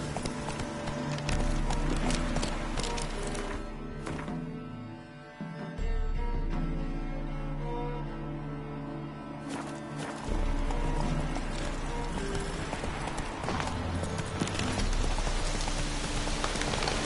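Roach the horse gallops in The Witcher 3, with steady rhythmic hoofbeats thudding close over a rain-like wash and swelling music, without any talk.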